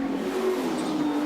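A number 17 V8 Ford Mustang touring car racing at Oran Park: a loud, steady engine note holding at high revs throughout as the car runs past, under commentary.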